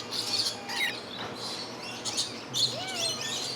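Birds chirp and squawk at Busch Gardens during Christmas Town, with bright, scattered calls at a moderate distance over a steady outdoor murmur.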